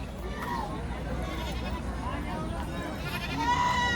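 Goats bleat amid the steady crowd murmur of the Parbhani weekly goat market in Maharashtra, with several bleats rising over continuous background chatter and a louder call near the end.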